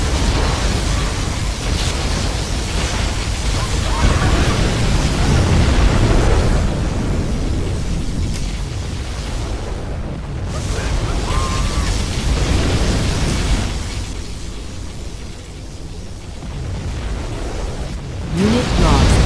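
Particle cannon fire in Command and Conquer Generals Zero Hour, a sustained loud roaring blast of broadband noise lasting throughout, with swelling rumbles and brief dips under announcer-style game voice lines.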